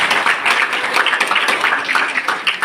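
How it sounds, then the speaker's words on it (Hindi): An audience at a talk gives brief, patchy clapping in a loud burst of scattered hand claps that rises and dips unevenly. "ताली कुछ तो बजी पर कुछ नहीं बजी।"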